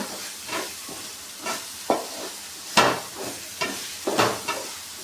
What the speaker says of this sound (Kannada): ಕರ್ಬೇವಿನ ಸೊಪ್ಪು ಬೇಕೇ ಬೇಕು ಚಿತ್ರಾನ್ನ ಮಾಡೋದಕ್ಕೆ ನೋಡಿ ಈ ರೀತಿ ಚೆನ್ನಾಗಿ ಫ್ರೈ ಮಾಡ್ಕೊಳ್ಳೋಣ